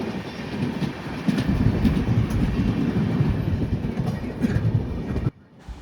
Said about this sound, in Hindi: ये जो ट्रेन गई ये थी रक्सौल लोकमान्य तिलक अंत्योदया SF एक्सप्रेस, जो कि सुपरफास्ट एक्सप्रेस है।